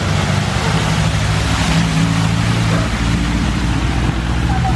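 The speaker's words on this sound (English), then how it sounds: "It's a car coming down through here." A car rolls down a flooded street in Angeles City, Philippines, its steady engine rumble mixing with a continuous wash of water sloshing around the tires, loud and close throughout.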